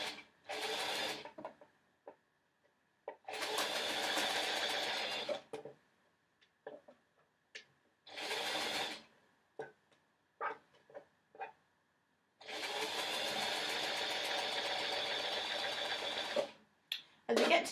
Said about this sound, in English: Now I've done my sewing in a black stitch just so you can see it.